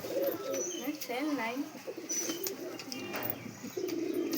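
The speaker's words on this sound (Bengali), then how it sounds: "কালসেরা পশ্চিমা বিগ সাইজ পায়রা তো দেখুন কত সুন্দর একটা পায়রা" Big-size Kalsera pigeons cooing at a pigeon market, with repeated rolling coos close by and a background of people talking and other bird chatter.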